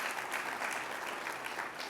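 An audience at a national announcement event claps in a steady, even patter of applause that stays fairly quiet and distant from start to finish.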